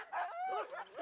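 Harnessed sled dogs at a snowy race start give excited, whining yelps and barks. The calls are high-pitched and rise and fall in a quick close burst.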